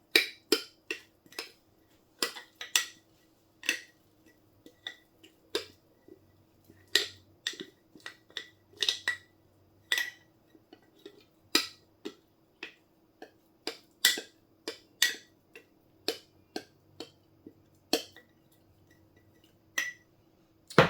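A utensil stirs sourdough starter in a container, giving a long series of sharp, irregular clinks and taps against the sides. The sounds are close and fairly regular, with quiet gaps between them.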